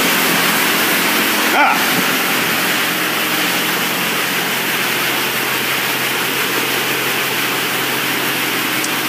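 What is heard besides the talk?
high pressure rinse at an automatic car wash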